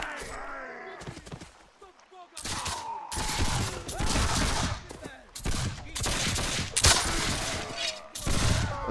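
Gunfire in the video game Mount&Blade With Fire and Sword, volleys of period firearms crackling in rapid overlapping bursts, loud and close, with someone talking over the shooting.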